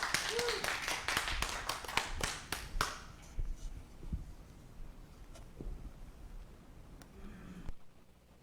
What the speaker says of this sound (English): Let's give Sean another round of applause.